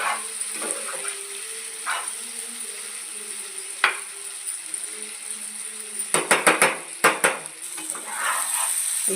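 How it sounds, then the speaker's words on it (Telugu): Mettalu fry in a pan with a soft steady sizzle, then a burst of quick scraping, clattering stirring strokes near the end. "ఇదిగోండి, కాసేపు ఇలా ఫ్రై చేసుకోవాలి."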